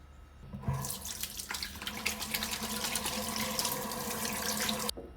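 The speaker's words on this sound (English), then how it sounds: "I wash my face," Water runs steadily from a tap into a sink during a quiet morning face wash, close and continuous after a brief start, then cutting off abruptly near the end.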